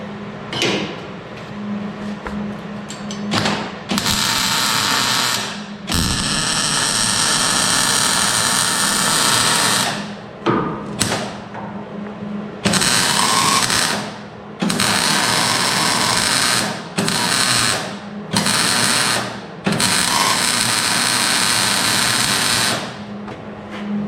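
A power sander works on a Chevrolet Suburban body in loud, repeated bursts of several seconds each, separated by brief pauses, with no talking.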